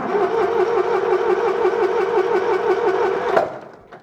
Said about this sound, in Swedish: kör runt med startmotorn tills bränsle sprutar fram